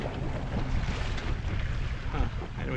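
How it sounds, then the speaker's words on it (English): Wind blows steadily over a Sunfish sailboat out on the water, a dense, close rush of gusty noise buffeting the microphone, with no clear talk. "Got a weird wind blowing."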